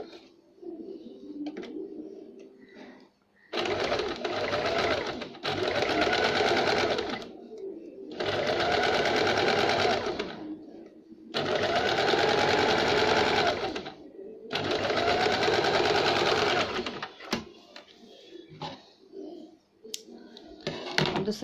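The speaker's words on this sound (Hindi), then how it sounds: "Neck line सिलेंगे।" A sewing machine stitches the neckline of a jumpsuit in four loud, sustained runs of several seconds each, separated by brief pauses, close up with no talking.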